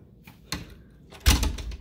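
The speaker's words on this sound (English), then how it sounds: "let me close my door" A room door is shut at home: a soft bump, then a louder thud with a latch click a moment later, close by and alone.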